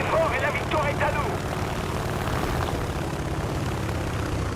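A video-game airplane comes in to land, its engine a loud, steady drone that fills the whole stretch, with a brief voice-like trace near the start.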